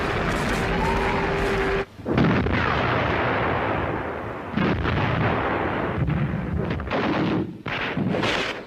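Artillery fire from WWII Soviet barrages on German lines: repeated heavy booms and blasts arriving in uneven bursts, loud and rumbling, with crackling debris and wind noise between shots.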